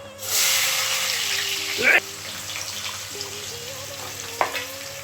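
Onion sizzles in a hot pan for a Sunday chicken and quail fry, a steady hiss with a couple of sharp clatters, while a low hum runs underneath and voices are faint.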